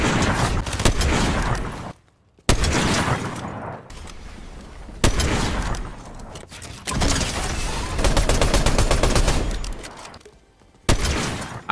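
Bursts of gunfire from a battle royale video game, dense rapid shots in several loud volleys separated by brief silent gaps, with no talking.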